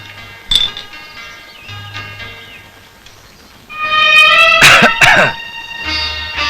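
A man coughs in a scene from an old Malayalam film: one sharp cough early on, then a louder, rougher burst of coughing near the middle, set against faint tonal background sound.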